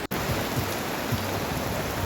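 Heavy rain pours steadily at the Nong Pla Lai reservoir in Rayong during a wind and rain storm, a dense, even hiss close by with no talk.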